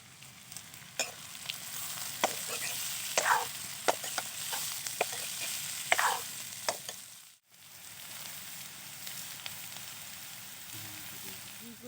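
Pumpkin peel and whole mung beans fry in a pan, a steady close sizzle broken by repeated scraping stir strokes, with a brief drop to near quiet midway before the frying resumes.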